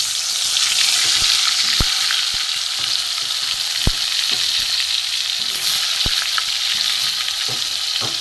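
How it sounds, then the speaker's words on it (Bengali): Continuous loud sizzling of potatoes coated in salt and turmeric frying in hot oil, a dense crackling hiss with occasional small pops, steady throughout with no voices. "তেল গরম হয়ে গেছে, আলু কটা আমি ভেজে নেব।"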